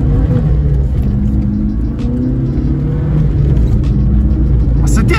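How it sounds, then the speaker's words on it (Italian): Fiat Panda 4x4 1.1 ie (A141) accelerating hard, a loud, close engine roar with a rising rev and a brief dip near the middle, then pulling strongly again. "Ma sentite l'accelerazione della questa macchina!"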